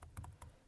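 Brief burst of keystrokes on a computer keyboard, a few quick close taps, faint and alone.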